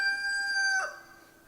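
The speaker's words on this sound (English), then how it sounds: "We've got chickens that are mad because they're not out yet" Farm rooster crowing, one loud, close, sustained tonal call lasting under a second that breaks off and fades, a single bird heard alone.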